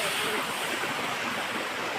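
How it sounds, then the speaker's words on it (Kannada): A river and waterfall at Sirimane Falls in a nature setting rush continuously, producing a loud, dense, unbroken roar of flowing water close by. "ಇಲ್ಲಿ ಮಧ್ಯದೊಂದೊಂದು ಫಾಲ್ಸು, ಈ ಹೊಳೆ ಸೌಂಡು."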